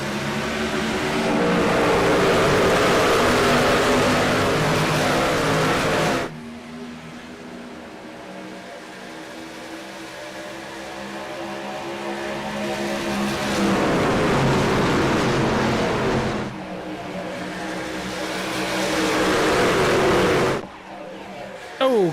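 Race cars in a NASCAR-style racing video game at Pocono surge away at a green flag start, with loud engines roaring and revving through repeated gear shifts and a dense pack of cars droning close by.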